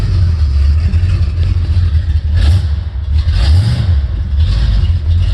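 A 1973 Chevrolet with a 454 V8 rumbles loud and close, rising in a couple of short revs over a deep idle, with no speech.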